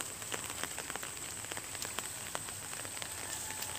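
Steady rain patters on a surface near rice paddies by a creek, with a dense spread of drips and soft taps throughout.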